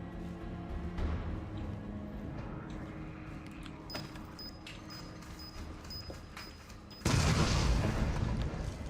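A bomb detonates in the Resident Evil 7 video game, with a loud, sustained blast surging up at the end over a busy background of game rumble and scattered clanks.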